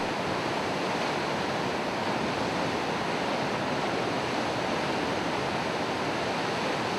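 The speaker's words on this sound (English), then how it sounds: "we can see beautiful waterfall in Upside Hill" A hillside waterfall along the Annapurna Circuit trek in Nepal pours steadily, making a constant broadband rushing roar with no pauses or voices.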